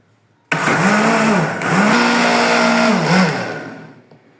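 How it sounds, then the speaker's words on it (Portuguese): A blender whirs loudly and steadily for about four seconds, its motor pitch dipping and rising as it churns the liquid mixture for bread dough. No one speaks. "Agora nós vamos bater aqui no liquidificador até dissolver tudo"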